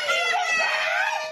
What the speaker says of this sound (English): Children screaming in terror at a daycare center as a grown-up wearing a scary mask yells in their faces.